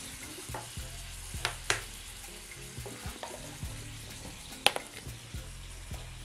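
Soy sauce and chili sauce sizzle in a pan of chicken Manchurian, making a steady quiet fry with a few sharp clinks and scrapes from stirring.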